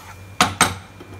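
Two quick metallic clanks of a spoon against a cooking pan while stirring turmeric and Kashmiri red chilli powder, close and sharp over a faint low hum.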